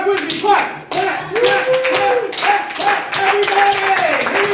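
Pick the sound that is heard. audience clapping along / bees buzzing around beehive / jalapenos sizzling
audience clapping along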